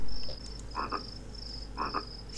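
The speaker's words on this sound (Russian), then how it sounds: "Такая лягушка, она уже убита жизнью" A frog in the video game The Visitor croaks twice in doubled bursts about a second apart, over a steady high insect-like whine and low hum.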